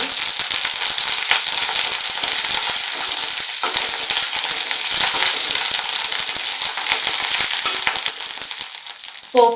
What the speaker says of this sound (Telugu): ఇప్పుడు పోపు వేగాక 1 గుప్పుడు కరివేపాకు వేసుకోండి.